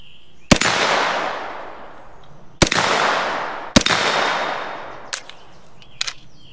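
Sharp gunshots from an SP5 firearm fired at targets outdoors: five loud, isolated cracks with long decaying echo, spaced irregularly about a second or more apart, no talking.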